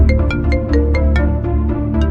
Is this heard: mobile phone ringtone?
yes